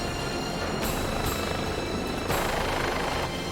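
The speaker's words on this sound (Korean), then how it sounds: "본격적으로 시작된 헬기 구조 작전" A rescue helicopter hovers over a seaside cliff during a hoist rescue, its rotor and turbine roar loud, close and continuous throughout, with brief surges in the rush of wind.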